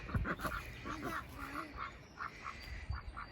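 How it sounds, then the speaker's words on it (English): Several ducks quack repeatedly in short nasal bursts, a small flock close by with a steady, overlapping rhythm. "The ducks are laying eggs in there. And here are the ducks."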